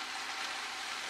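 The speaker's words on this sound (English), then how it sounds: "I'm hearing a nice sizzle going on in the pot there." Food sizzles steadily in a heavy cast iron pot with honey nut squash cooking on the stove, a constant bright hiss with no talking.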